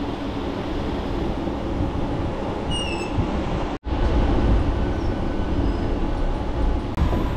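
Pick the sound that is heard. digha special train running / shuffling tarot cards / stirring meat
digha special train running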